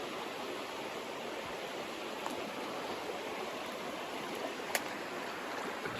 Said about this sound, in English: creek flows into the swimming pool there, fills the swimming pool, and then leaves the swimming pool